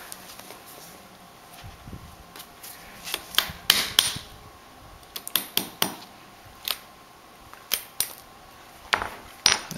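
Sharp metallic hammer taps on a punch driving out a pin during a master cylinder install, striking in irregular clusters, some single and some quick doubles, close and fairly loud against a quiet background.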